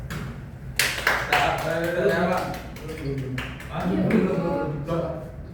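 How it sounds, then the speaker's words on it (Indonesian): Classmates applaud after a practice teaching session in a classroom: scattered hand claps and taps of a small group, close and uneven, running under people talking. "Tunggu tepuk tangan dari teman-teman dulu dong"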